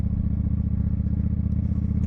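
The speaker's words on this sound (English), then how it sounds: "But that exhaust, I think it's a bit too loud." Honda VT1100 Shadow Ace motorcycle idling with a loud exhaust, a steady deep thumping rumble heard close up and alone.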